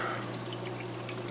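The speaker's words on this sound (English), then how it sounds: "My return pump pumping up." An aquarium sump return pump on a JBJ 28 Nano Cube tank pushes water in a steady, continuous trickling pour over a low, constant hum, close by with no talking.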